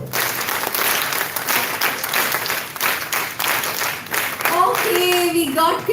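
A large conference crowd claps together in a steady burst of applause lasting several seconds, loud and close, with a voice rising over the tail end.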